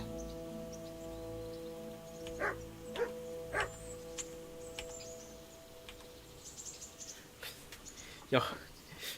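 A dog barks in the medieval role-playing game Kingdom Come: Deliverance, giving a quick run of three or four sharp barks early on and another single bark near the end, over a steady background with faint bird calls.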